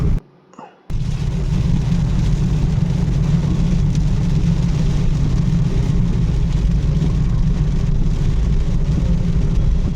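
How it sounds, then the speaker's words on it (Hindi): Heavy rain drums steadily on a car moving at about 60 km/h at night on a highway in Karnataka near Bijapur, a loud continuous wash of rain and road noise after a brief quiet moment at the start. "बारिश दे धनाधन आ रही है।"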